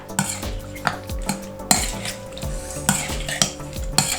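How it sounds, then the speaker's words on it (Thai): Spoon and bowl clatter while spicy Thai salad of pork sausage and fresh shrimp with lime is tossed and mixed, a close, rhythmic series of clinks and scrapes with no talking. "คลุกให้เข้ากันค่ะทุกคน"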